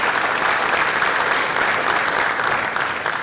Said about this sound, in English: let's give them a round of applause because we're here celebrating